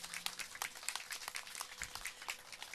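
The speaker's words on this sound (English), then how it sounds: "Please give a big round of applause." A small crowd at an outdoor bus shelter ribbon cutting claps, light scattered applause with individual claps audible, fairly faint and thin, tapering slightly.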